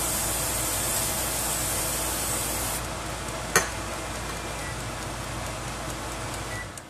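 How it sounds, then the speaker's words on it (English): A kitchen vent fan runs with a steady broadband whoosh, loud and constant, its tone dropping slightly partway through, with a brief sharp click in the middle. "So I'm going to turn on the vent. Get a little loud."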